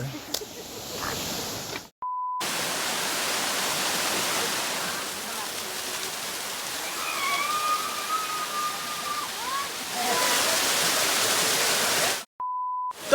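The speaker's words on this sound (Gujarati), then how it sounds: "અમે લોકો આવી ગયા છે ભાઈ જવાનગઢના વોટરફોલમાં" The Jawangadh waterfall rushes as a loud, steady broadband roar up close, broken by brief beeps near the start and end, with a faint whistle-like tone drifting over the noise midway.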